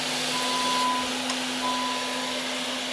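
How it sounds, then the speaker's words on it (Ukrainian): A robot cleaner vacuums a store floor in Canada, its steady, loud motor whine and hum running close and unbroken, with faint shop ambience and no talk. "Їде пилососником, збирає, підгрібає і ще й сміється."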